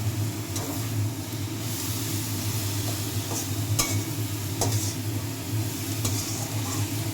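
Spice masala with prawns for a green jackfruit and prawn curry is stirred in a hot pan, giving a continuous frying sizzle with intermittent scraping strokes of the spatula against the metal, close and steady.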